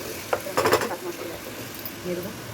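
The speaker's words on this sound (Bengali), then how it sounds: "মশলাটা দেখি কষানো ভালো রকম কষানো হয়ে গেছে" A spice masala for ghugni is sautéed in a wok: a short burst of clattering stirring scrapes near the start, then a faint, low sizzle.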